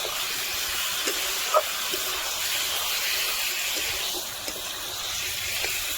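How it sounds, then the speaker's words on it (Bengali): A spice paste of ginger, garlic, chilli and cumin sautés over a wood-fired stove, giving a steady broad hiss of frying with a few faint clicks and pops. "এবার এটাকে বেশ ভালো করে কষিয়ে নেব"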